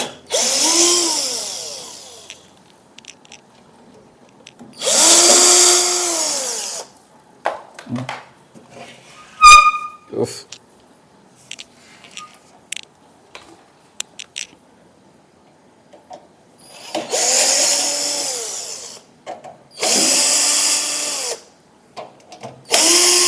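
A power screwdriver backs out the four screws on the front cover of a UTL Gamma Plus 3400/24V solar inverter, giving several loud whirring bursts of one to two seconds each, with small clicks and handling noises in the gaps.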